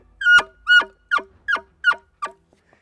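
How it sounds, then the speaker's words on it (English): An elk bugle with a rubber reed is blown in six short, rising squealing calls at a steady pace, loud and close with silence between the blasts. "Okay, so how to use an elk bugle."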